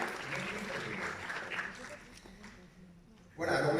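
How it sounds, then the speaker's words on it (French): Conference audience applauding the staff at an opening address, steady broadband clapping that fades lower toward the end before a louder burst returns near the close. "Sandra, que vous pouvez aussi évidemment applaudir"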